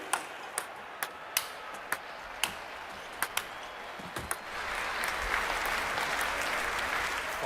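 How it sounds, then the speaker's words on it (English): Table tennis in the London 2012 video game: sharp, evenly spaced ball ticks ring out in a fairly faint rally before a crowd breaks into sustained applause that fills the last few seconds. "The crowd are on their feet with that point one."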